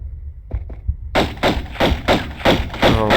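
Explosions in the Tomb Raider: Unfinished Business Remastered Atlantis level: a couple of soft thuds, then a sustained run of loud, booming blasts repeating in a steady rhythm.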